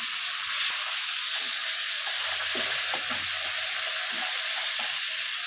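Fish heads lightly frying in oil give a steady, close sizzle with soft stirring scrapes and brief bubbling bursts, continuous throughout with no voices.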